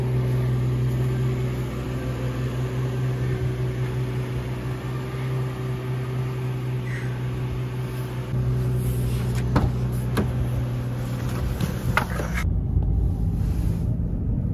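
A new Nissan Z sports car with a manual gearbox drives along, heard from inside the cabin as a steady engine drone with road rumble, loud and continuous, with a few clicks near the end.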